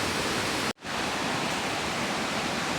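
Hulugan Falls, a tall waterfall in Luisiana, Laguna, roars as a loud, dense, steady rush of falling water heard up close, with a brief dropout near the start.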